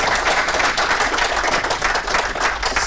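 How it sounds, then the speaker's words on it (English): A tech event audience gives a loud, dense burst of applause, with many hands clapping continuously and evenly for the full three seconds. "I will big applause for today."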